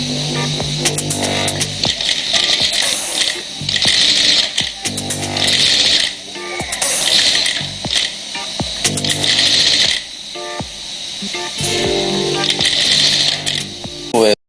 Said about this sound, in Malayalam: എന്നിട്ട് നമ്മൾ സ്റ്റിച്ച് ചെയ്യും